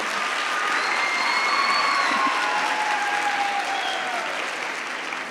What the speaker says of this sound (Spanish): Que se escuche ese aplauso.